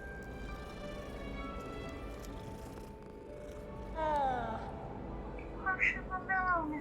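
A cat in the Hogwarts Legacy video game purrs and then gives a few rising meows as it is petted, close and moderately loud over game music and ambience.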